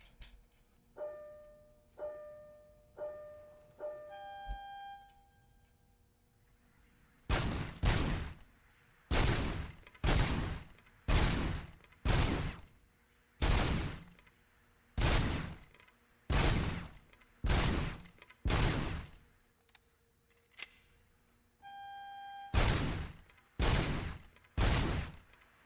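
Rapid bursts of video game gunfire at headshot dummies, each a sharp loud broadband crack in a steady rhythm of about a dozen shots, with short electronic beep tones before and near the end.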